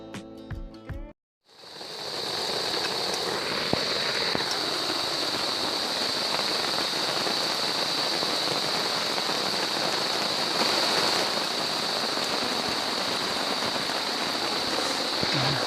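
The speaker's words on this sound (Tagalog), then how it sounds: "Grabe, maghapon, magdamag, umuulan. Mukhang hindi yata titigil to." Rain pours steadily on a motocamping campsite at a farm in Dolores, Quezon: a dense, even hiss of drops that starts after a brief cut-off sound and then continues loud and unchanging, with no one talking.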